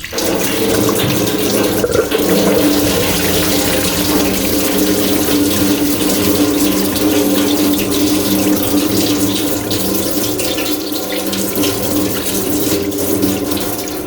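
Engine coolant pours out of the engine block of a Mk4 Volkswagen Jetta TDI during a water pump and timing belt job, a loud, steady splashing gush that runs continuously with no talking.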